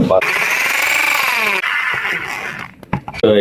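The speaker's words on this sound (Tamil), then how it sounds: "இப்போ ட்ரில் பண்ணி காமிக்கலாம்" A Bosch power drill runs in a loud, steady burst with a high whine, cuts out briefly, then revs again in short bursts, close to the listener.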